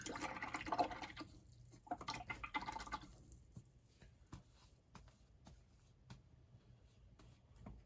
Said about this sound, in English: Clean my brush.